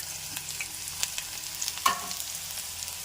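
Urad dal frying in hot oil for a red chili chutney, a soft crackling sizzle with scattered small pops and stirring scrapes, close by and fairly quiet.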